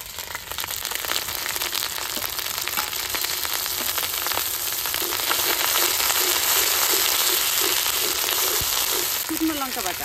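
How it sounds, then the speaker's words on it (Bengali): Cumin and coriander paste fries in hot oil with onion and ginger, a steady dense sizzle that holds at even loudness throughout, with faint stirring scrapes and a late clink near the end. "এবার জিরে ধনে বাটাটা দিয়ে দেবো"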